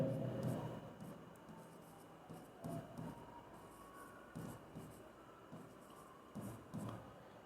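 Chalk or a pen writes on a board during a physics lesson, making soft, scratchy strokes in short, evenly spaced bursts against a quiet room.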